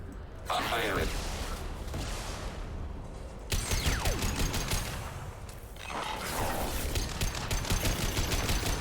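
Gunfire in the Mass Effect 2 video game, heard as repeated bursts of rapid automatic shots in several waves separated by short lulls, fairly close, with voices speaking at times.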